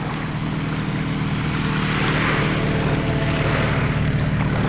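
Steady engine drone of beach police water scooters running on a bay, continuous and fairly loud, with wind buffeting in the background.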